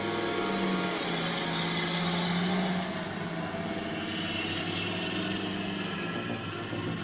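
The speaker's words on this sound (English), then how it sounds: "Watch the timber truck glide smoothly over rough roads." A heavy timber truck hauling logs rumbles over a rough, muddy road in a continuous engine drone. The drone runs loud at first, then eases slightly. No voices are heard.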